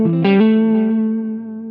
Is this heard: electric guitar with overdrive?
yes